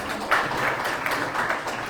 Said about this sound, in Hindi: आप सभी के लिए जोरदार तालियां हो जाए।